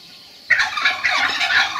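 Turkeys on a small mission farm on Flores island burst into a loud, close rapid gobbling chorus after a brief near-quiet start.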